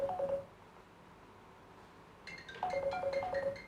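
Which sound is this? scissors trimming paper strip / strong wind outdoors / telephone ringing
telephone ringing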